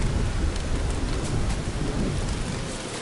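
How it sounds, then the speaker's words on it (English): Steady heavy rain with a deep rumble of thunder fills the scene in the survival video game Don't Starve, a continuous dense hiss with low rolling booms underneath. "And rain!"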